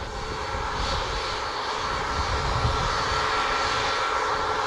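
Airplane engine at Montego Bay airport in Jamaica, a steady, loud, broadband roar that holds evenly throughout without a break, heard alone with no voices.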